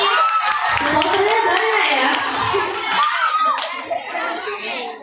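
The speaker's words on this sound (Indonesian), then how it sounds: "Lagi tepuk tangannya sekali lagi." A school audience applauds at a Ramadan religious speech contest, with dense, sustained clapping close by and children's voices mixed throughout.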